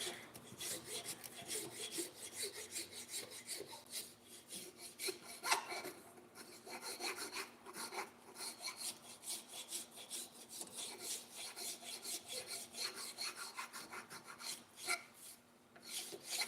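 A coarse, aggressive rasp file of the kind used for fiberglass bodywork works wood for a blacksmith's hammer handle, giving steady, rhythmic scraping strokes that repeat close-up and loud throughout, with no talking.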